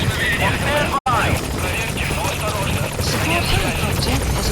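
The support helicopter in Metal Gear Solid V sits at the landing zone, its steady loud rotor roar filling the whole stretch with a brief dropout near the start, while radio voices talk over it.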